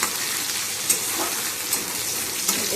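Ingredients, including ginger for momo filling, fry in a pan with a bright, continuous sizzle, stirred now and then with soft utensil clicks.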